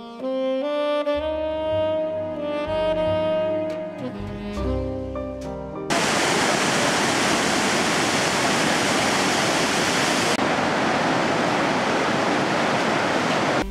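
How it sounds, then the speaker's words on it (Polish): Iguazu Falls at the Devil's Throat in Brazil, heard from the walkway between its two cascades in heavy equatorial rain. Music plays first, then a loud, steady, unbroken roar of falling water takes over and fills the rest. "Pomost pomiędzy jej dwoma kaskadami pozwala bezpośrednio odczuć ogrom mas wody spadających w przepaść z ogłuszającym hukiem."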